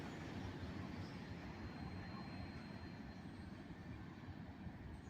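A northbound manifest freight and a southbound local train pass beneath Main Street in Greenwood, South Carolina, giving a steady, loud low rumble that holds for the whole stretch with no voices.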